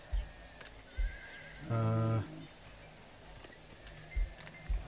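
A horse mount in the fantasy strategy game Age of Wonders 4 lets out a single loud, bright whinny lasting about half a second, set against quiet game ambience with a few soft thumps.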